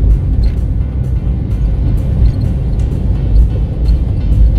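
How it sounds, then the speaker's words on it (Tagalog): A garbage truck passes on an elevated expressway ramp, a heavy, steady low engine and road rumble with continuous traffic noise and no clear voices. "Truck ng basura."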